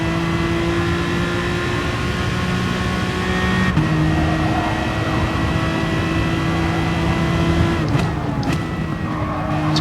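Honda Group E off-road rally car racing in GT Sport, its engine a loud, steady high-revving drone with distinct shifts in pitch near the start and end, joined by faint tyre noise.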